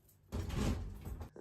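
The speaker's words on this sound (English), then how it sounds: "Gotta close the door. Close this door too, or it's not gonna work." An elevator door in Egypt slides shut with one continuous scraping, rumbling close, ending with a faint knock, heard nearby with no talking.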